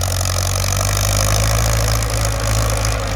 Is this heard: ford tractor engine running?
yes